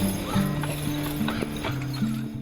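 Draft horses at the Central Alberta Draft Horse Show in Olds stomp and clop their hooves in a quick, irregular series of close thuds, with horse calls and background murmur mixed in.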